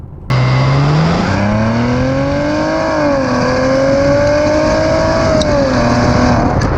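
A Maserati Ghibli S Q4 revs loudly, its exhaust note climbing, holding and easing back in pitch, close by with no speech.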